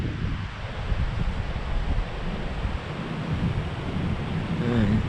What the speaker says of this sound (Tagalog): Ang lakas ng hangin kasi